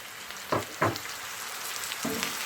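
Softened onions, spices and tomatoes cooking in a pan for Punjabi-style ridge gourd curry give a constant hiss of frying, broken by a few low clunks and scrapes of stirring.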